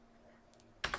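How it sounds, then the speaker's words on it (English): Two quick, sharp keystrokes on a computer keyboard close by, heard while coding in a Visual Studio Code editor after a near-silent stretch. "Now we can type,"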